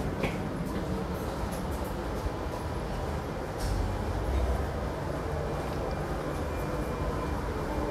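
Interior of the Sembrani passenger train running out of Jakarta, a steady broadband rumble of wheels and carriage with a brief louder low surge midway, continuous and fairly close.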